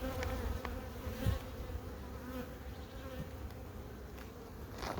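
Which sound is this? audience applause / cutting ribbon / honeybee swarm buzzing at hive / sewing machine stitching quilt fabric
honeybee swarm buzzing at hive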